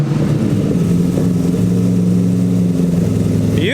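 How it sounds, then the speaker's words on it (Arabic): The engine of a converted 1967 Mustang Fastback, built from a Bugatti Veyron, runs loud and close at a steady idle, then gives one quick rev at the very end. "بعدين جه وقت تشغيل العربيه."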